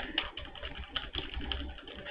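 Computer keyboard shortcut keys pressed on a desktop while editing an image in a graphics program, a few quick soft clicks and taps standing out over a steady low background hum, with no talking.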